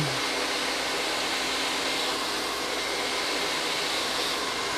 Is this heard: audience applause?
no